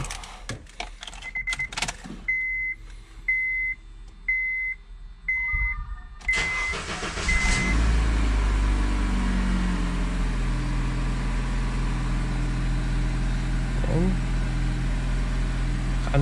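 After an oil pan repair, a car gives several ignition chimes and key sounds, then its engine cranks, catches and settles into a steady close idle.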